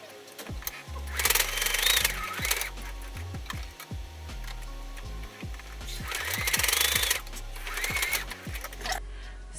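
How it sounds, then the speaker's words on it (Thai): A sewing machine stitches fabric for a phone case, running in two bursts of steady, rapid mechanical rattling with a pause between, close and fairly quiet. "จากนั้นเราก็จะนำไปเย็บทับนะคะ เย็บทั้งสองด้านเลยค่ะ"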